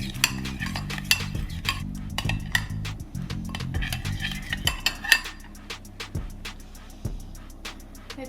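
Lemon zest marinade being stirred in a bowl with a utensil, a run of quick clinking taps and scrapes against the sides up close, growing sparser toward the end.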